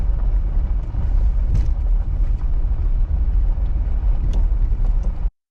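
An RV cruising down an Arizona road near Palm Canyon and Quartzsite, with a steady loud engine and tire rumble heard from inside the cab and a constant low drone that cuts off abruptly at the end.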